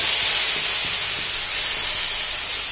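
Tomatoes hit hot oil already holding mustard seeds, hing and red chilies for pepper rasam, giving a loud, steady, close-up sizzle and hiss that carries on without a break.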